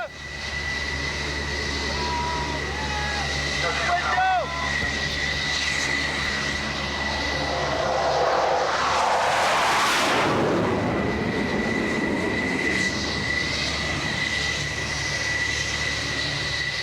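An F-14 Tomcat jet waved off over an aircraft carrier deck roars past, its engine noise swelling to a loud, broad rush and then fading to a steady drone.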